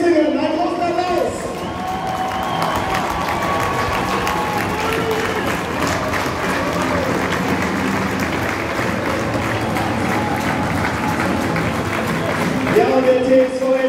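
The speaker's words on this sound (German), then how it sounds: "Platz 2, der TSV Essingen, ein großer Applaus." A crowd at a cup final award ceremony applauding second-placed TSV Essingen, sustained clapping and cheering with an announcer's voice over a loudspeaker running through it.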